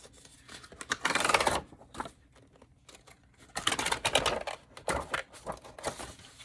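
Pages torn from the back section of a paper planner: two long, close ripping passes, then several shorter crisp tears and rustles, with quiet gaps between.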